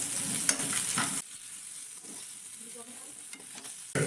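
Tomatoes and other ingredients fry in a pan with a loud, close sizzle and stirring scrapes for about a second, then the sound drops to a faint crackle before the sizzle surges back at the end.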